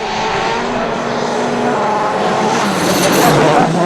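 A Citroën C4 rally car engine at the 2009 Rally de Portugal roars loudly and steadily, pitch climbing toward the end as it accelerates through a stage.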